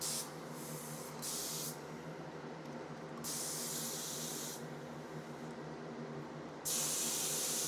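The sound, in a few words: spray gun spraying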